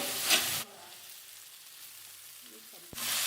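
Soaked sabudana fries in a pan for sabudana khichdi, giving a loud close sizzle in two short bursts at the start and the end, with a near-silent gap between them.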